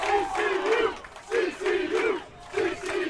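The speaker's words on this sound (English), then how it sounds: "You guys can probably hear that, but this crowd is going off." A loud crowd at a USA Water Polo Junior Olympics match cheers and shouts in rhythmic bursts, chanting in three swelling waves close by.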